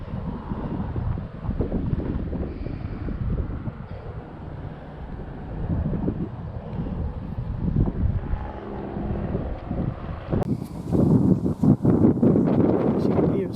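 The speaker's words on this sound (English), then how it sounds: "As you can hear, it's really breezy up here." Breezy wind buffets the microphone at a lookout over the PekaPeka wetlands, a constant low rumbling roar that swells in gusts, growing stronger near the end.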